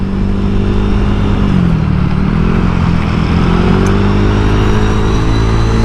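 A Honda Vario 125 scooter, an older model, rides steadily along a road, its engine droning loud and close with a continuous hum and slight pitch shifts, mixed with steady wind rush.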